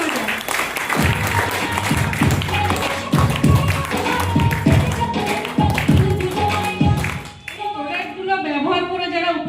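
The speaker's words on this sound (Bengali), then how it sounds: "সবার জন্য একটা জোরদার ক্ল্যাপিং হয়ে যায়" An auditorium audience at an Ayurveda business plan meeting in Barasat's Rabindra Bhaban gives loud, sustained applause for testimonial participants, with sharp rhythmic claps and thumps before music takes over near the end.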